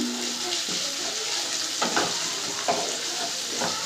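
Steady sizzle of cumin seeds frying in hot oil in a wok, with a few soft scraping stirs near the close.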